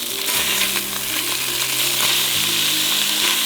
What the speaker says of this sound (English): Now we're adding our hot Italian sausage.